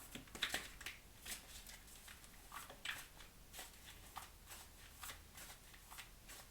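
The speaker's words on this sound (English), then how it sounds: "We'll give her a good shuffle." Gilded Tarot Royale tarot deck being shuffled by hand, a soft, quiet run of repeated riffling and sliding card bursts in a calm, still room.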